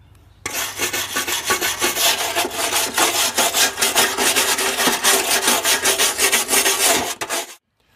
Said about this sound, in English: Now I'm going to switch to a wire brush to get the rest of it.